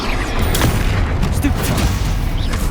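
Loud, booming Confringo spell blasts from the Hogwarts Legacy video game go off amid steady, dense battle noise, with several sharp hits over a continuous roar.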